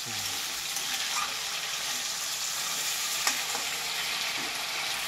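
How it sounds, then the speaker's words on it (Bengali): Fish fat melting and frying in a pan, a dense, continuous close sizzle with faint crackles, steady from start to finish. "তেলটা গলিয়ে মাছের তেলটা আমার ভাজা হয়ে গেছে"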